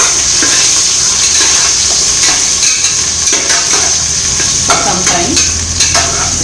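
Onions and chilies frying in a pan for brinjal rice, a steady bright sizzle with scattered scrapes and clinks of stirring, close and continuous.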